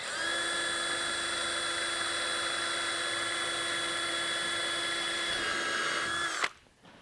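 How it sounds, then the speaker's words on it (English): A power drill bores a hole to mount a kayak pulley, a loud steady high whine running for about six seconds before it abruptly winds down and stops. "put the drill in, and drill out your next hole"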